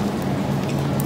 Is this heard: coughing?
no